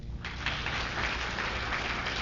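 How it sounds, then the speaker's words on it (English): A live audience at a 1971 Credibility Gap comedy show at UCLA breaks into applause: a dense, sustained wash of clapping that swells quickly and keeps going without a break. "would those who didn't applaud just then, please applaud right now?"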